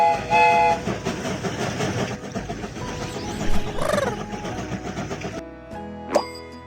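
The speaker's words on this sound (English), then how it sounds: "The train is about to start." Cartoon train rolling out with a steady rumbling clatter, a rising whistle-like tone around the middle, then quieter after a drop and a short bright toot near the end.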